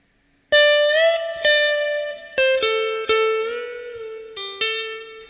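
Opening of the first electric guitar solo on a 1973 live recording: after a moment of silence, a handful of bright picked notes ring out with bends and long sustain, clear and close with no talking.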